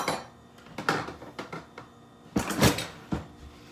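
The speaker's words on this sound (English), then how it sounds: "Get a spoon out of the drawer here." A kitchen drawer is pulled open and a spoon taken out while making pico de gallo, a run of nearby wooden knocks, slides and small metallic clatters.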